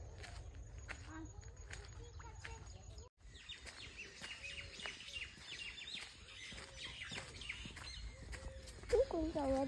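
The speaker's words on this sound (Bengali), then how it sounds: "কতগুলো পাখি ডাকছে দেখতে পাচ্ছ, শুনতে পাচ্ছ?" Birds call and chirp in a natural forest, with repeated short calls scattered across the scene, fairly faint beneath frequent talking, footsteps and a brief interruption.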